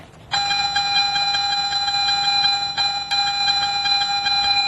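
A steady, continuous electronic tone from a Garrett metal detector, held over a target, starts abruptly and holds at an even pitch, with a brief dip partway through.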